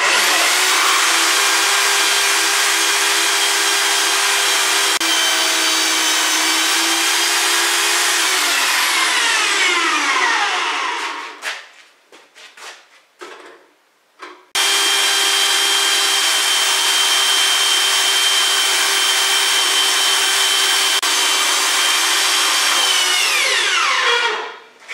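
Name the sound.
saw cutting wood for a lathe tool rest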